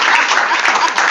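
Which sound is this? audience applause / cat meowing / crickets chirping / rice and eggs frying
audience applause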